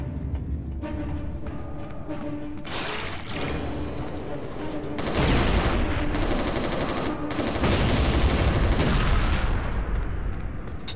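Loud, dense bursts of boom rifle and shotgun fire from the PS5 shooter Resistance: Retribution, with repeated heavy blasts layered over a constant roar of in-game battle noise.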